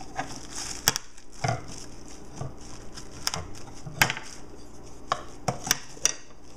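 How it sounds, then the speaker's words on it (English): A wooden spoon's back presses and crushes black pepper for a pork marinade, giving close, irregular wooden knocks and gritty crunches over a quiet room, with no talking. "use the back of a wooden spoon to crush the black pepper"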